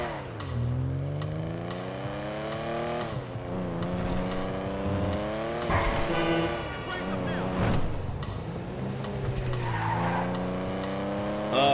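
Engine revving and tires squealing from a car driven in the video game Grand Theft Auto V on PS4, with rising and falling engine pitch and a few skids, loud and continuous, with faint talk underneath.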